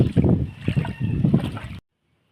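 A boat crossing flood water carrying schoolchildren, heard as close, uneven low rumbling and buffeting that runs for under two seconds and then cuts off abruptly into silence.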